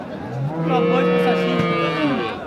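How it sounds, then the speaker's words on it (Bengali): A crossbred dairy cow at a large cattle market in Dinajpur lets out a single long, loud, close moo that swells and fades over a couple of seconds. "সেই সঙ্গে শঙ্কর প্রজাতির এই গরুটি"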